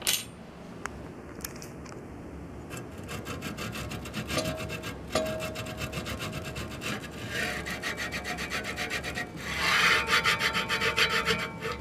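A Prusa i3 MK3S+ 3D printer carriage slides along its rods with a steady, high-pitched rubbing hiss that grows rougher and louder toward the end, punctuated by a few sharp clicks near the start.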